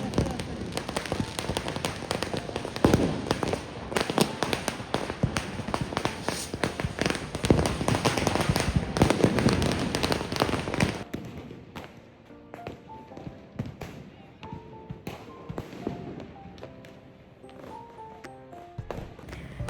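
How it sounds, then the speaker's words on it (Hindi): Diwali firecrackers burst in dense, loud cracks and pops for about eleven seconds, then thin out into scattered distant bangs and faint tonal sounds over crowd noise. "वी ऑल्सो स्टार्टेड पटाखे फोड़ना स्टार्ट कर दिया हम लोग ने फाइनली"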